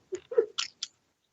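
Someone chewing right against a microphone, a few wet, crunchy bites in quick succession, loud and close, with a sharp click at the end.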